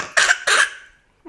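Two sharp coughs in quick succession, close and fairly loud, followed by a brief silence in a family home setting.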